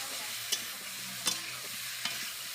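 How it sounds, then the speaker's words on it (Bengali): Masala being sautéed in a pan for a Malabar spinach (pui shak) curry, a quiet steady sizzle broken by three distinct stirring scrapes, with no talk. "এবার ভালো করে একটু কষিয়ে নিতে হবে"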